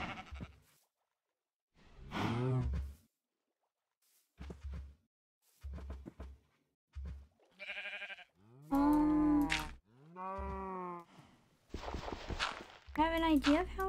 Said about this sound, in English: The cow is stuck.